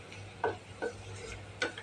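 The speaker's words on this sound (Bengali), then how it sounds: "একটু রসুন দিয়েছি, পেঁয়াজ দিয়েছি, আর চিংড়ি মাছের শুটকিটা ছেড়ে দিয়েছি।" Garlic, onion and dried shrimp fry in a pan with a steady low sizzle, broken by a few soft scraping stirs of a spatula against the metal.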